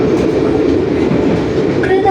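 The Panoramic luxury train from Surabaya to Yogyakarta runs with a loud, steady rumble and rolling rail noise, heard continuously from inside the carriage.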